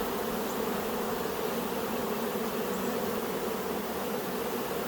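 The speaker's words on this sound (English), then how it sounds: "These bees are really gentle." Honeybees buzzing over the frames of a nuc hive, a dense continuous hum of many bees, steady and close throughout, with no talking.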